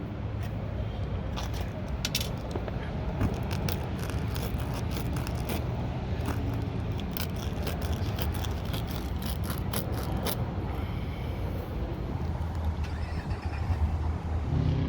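A punctured tire on a Chrysler 300C HEMI is worked on for patching, a continuous rough scraping and rasping over low rumbling, with quick clicky scratches clustered early and again around the middle, close and steady with no clear talk.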